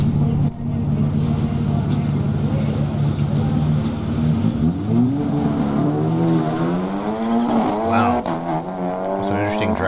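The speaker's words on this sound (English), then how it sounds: "interesting drag race." Cars in a drag race, an SUV against a racing car, roar continuously with engines revving and pitch sweeping upward as they accelerate, loud and close throughout.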